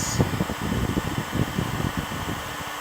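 A heat gun warming a fitting on a boat gives off a steady, close blowing roar with a fan-like whir and faint low rumbling throughout, and no voices.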